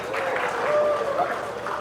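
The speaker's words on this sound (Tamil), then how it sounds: "கைத்தட்டு வராதது இப்ப வருது பாருங்க மாஸ்டர்." Audience applause at a Tamil film audio launch event for Petta Rap, a steady wash of clapping from a crowd filling the hall, sustained and fairly loud for under two seconds.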